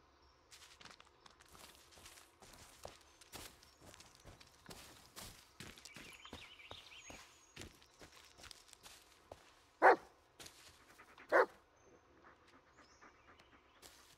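A dog in the Blair Witch game walks along with rapid padding footsteps and panting, then gives two sharp, loud barks close by.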